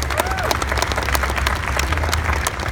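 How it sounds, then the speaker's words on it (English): Applause for Kevin Keeling and his team at Ford's SEMA 2016 press event fills the room, with dense clapping and crowd noise over a low hum. "Round of applause for Kevin and his team."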